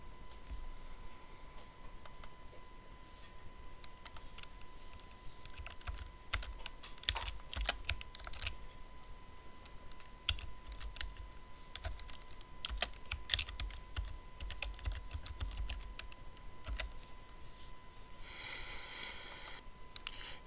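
Typing on a computer keyboard while entering client information, quiet irregular clicks and key taps at close range, alone with no speech.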